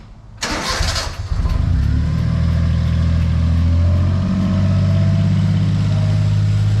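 An engine cranks and fires on a Honda Acty after an oil leak repair: a brief whirring crank, then a loud catch that settles into a steady, slightly uneven idle, close by with no talk.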